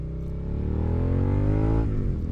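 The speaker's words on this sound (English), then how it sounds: "Let it out slowly, match your RPMs, and let it catch like this." A motorcycle engine is downshifted with rev-matching, the revs sweeping up steadily and then dropping as the clutch catches. It plays loud and close, continuous, with no talking.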